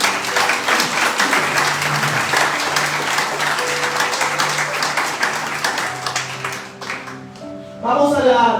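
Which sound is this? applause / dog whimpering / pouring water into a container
applause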